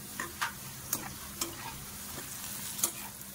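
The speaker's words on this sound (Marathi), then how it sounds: "फायनली आपला कांदा छानपैकी तळून झाला आहे" Onions fry in hot oil over a high flame for homemade veg pulao, a steady close sizzle broken by several light spatula scrapes and clicks against the pan, no talking.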